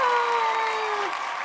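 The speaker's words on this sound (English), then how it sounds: "The crowd goes wild." Crowd applause sound effect, steady clapping from a large audience with a tonal whistle-like sweep over it, fairly loud and continuous.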